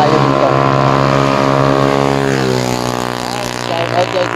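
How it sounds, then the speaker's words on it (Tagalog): A loud vehicle exhaust drones close by on a road in Palanas, Masbate, a steady low rumbling hum whose pitch slowly shifts as it passes, with a voice talking over it. "ang ingay ng tambutso mo"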